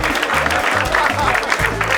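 Live studio audience of a comedy game show applauds the panelists with dense, steady clapping and cheering over a low rumble, sustained and loud throughout.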